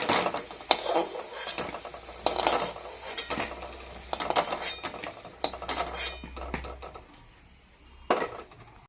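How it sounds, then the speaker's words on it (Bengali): Fried egg kofta is lifted from a pan on a home stove with a spoon or spatula, producing irregular metallic clinks and scrapes against the pan, some sharp knocks standing out over quieter stretches. "কোপ্তাটা ভাজা হয়ে গেছে আমি তুলে নিচ্ছি"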